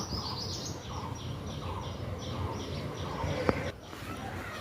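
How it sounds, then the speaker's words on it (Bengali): Outdoors near a fruiting mango tree, a sparrow sends out repeated chirps at a steady rhythm over a constant background hiss, moderately close and clear throughout. "সুন্দর একটা চড়ুই পাখির ডাক শুনতে পেলাম"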